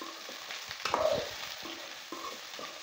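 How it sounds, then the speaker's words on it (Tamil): Okra fry gets turned over from the bottom of a pan, giving a few close scraping and clattering stirs over a light sizzle, brief and moderately quiet with no speech. "2 நிமிஷத்துக்கு ஒரு தடவை இந்த மாதிரி வந்து அடியிலேருந்து பிரட்டி போட்டு கிளறணும்."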